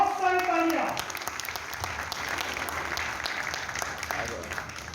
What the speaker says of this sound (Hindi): अवैस शहजाद के लिए बहुत सारी तालियां।